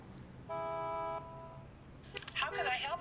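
A telephone in the 1940s Los Angeles detective game L.A. Noire gives a short steady dial tone, then a burst of crackly, warbling line noise as the call connects.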